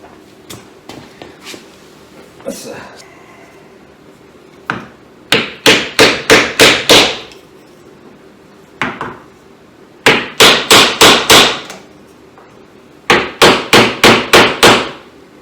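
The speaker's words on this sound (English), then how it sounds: "I'll use a ball peen hammer." A ball peen hammer strikes pallet wood in quick bursts of five or six sharp, ringing blows, separated by pauses, with a few scattered single taps at the start.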